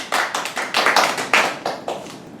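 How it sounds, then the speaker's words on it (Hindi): A church congregation claps in worship, roughly eight crisp, close hand claps in a fairly even rhythm, with short pauses between some beats and no talking. "हम स्तुति आराधना के लिए प्रभु यीशु मसीह का तालियों से स्वागत करते हैं।"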